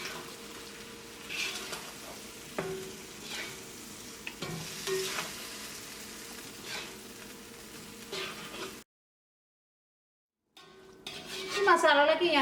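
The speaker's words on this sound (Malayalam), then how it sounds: "ഇതെല്ലാം കൂടിയിട്ട് മിക്സ് ചെയ്യാം." Kappa biriyani masala is stirred in a pan over medium flame, with a low sizzle and repeated scraping and knocks of a spoon against the pan, then a brief silence and a louder burst of clatter.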